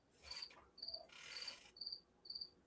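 A cricket chirps indoors in a house, repeating short bright trills at a steady, spaced rhythm, faint but distinct over a low background hiss.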